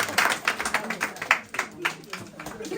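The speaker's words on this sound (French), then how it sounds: "On peut applaudir." Rhythmic hand clapping at a customary wedding celebration in Tremblay-en-France, heard as steady, fairly quick claps from a group, close and lively, with voices mixed in.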